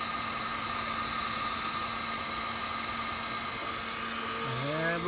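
Heat gun shrinking tubing over the upper Astro Ventilation control cable of a 1969 Camaro Z28, a steady airy blowing hum with a faint whine, continuous and close throughout.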